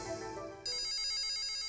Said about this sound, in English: My cell phone rings at 7 o'clock in the morning